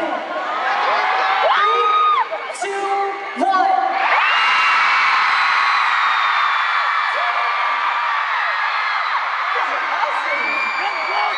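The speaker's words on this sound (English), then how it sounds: "On a count of three, I want you to scream as loud as you can." A concert crowd at a show in New York screams and cheers loudly and continuously, with high whoops and shrieks layered throughout and a brief dip near the middle before the roar swells again.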